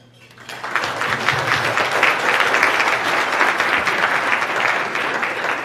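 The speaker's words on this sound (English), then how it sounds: "let's give this group of distinguished panelists a round of applause" An audience at a regional summit panel session breaks into applause, swelling quickly from quiet to a full, steady roar of clapping that continues throughout.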